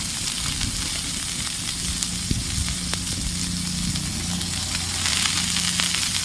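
Raw cleaned prawns hit a hot pan in a home kitchen and sizzle steadily throughout, a continuous close frying hiss with a few soft clinks and stirring sounds and no voices over it.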